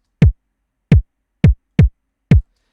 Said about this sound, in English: Just a nice punchy kick drum.